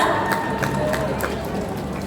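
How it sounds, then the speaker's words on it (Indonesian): Steady crowd applause fills the hall at a film gala premiere, a dense continuous wash of clapping for the voice actors. "Tepuk tangan sekali lagi untuk voice actors kita"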